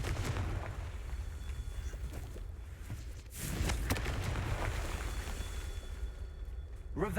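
Explosive booms of the Confringo fire spell in the video game Hogwarts Legacy, a dense continuous rumble with a sharper blast near the middle, loud and close throughout.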